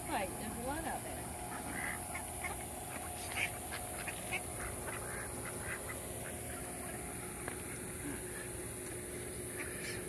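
Ducks feed on pellets at a park, giving scattered quacks and splashy pecking sounds at a moderate distance, with some voices faintly in the background.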